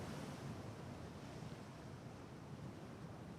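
Naval battle game Ultimate Admiral: Dreadnoughts plays slight ocean waves in a light breeze as a soft, steady wash of noise, faint and even throughout, with no talking.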